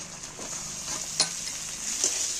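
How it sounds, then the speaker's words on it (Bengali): Chopped tomatoes fry in a pan with onion, ginger and garlic, giving a continuous close bright sizzle broken by a few soft stirring scrapes, with no speech. "এবার টমেটো পেঁয়াজ ভালো করে এগুলোকে একটু ভেজে নেব"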